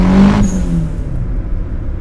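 Turbo Mazda Miata at 9 psi being driven to warm up, a loud engine drone that drops away after half a second into a quieter road rumble, heard up close.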